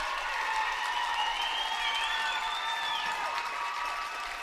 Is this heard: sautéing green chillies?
no